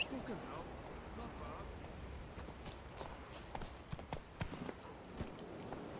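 A horse's hooves in The Witcher 3, a steady clip-clop of galloping footfalls at moderate loudness with occasional louder thuds, and someone speaking over it.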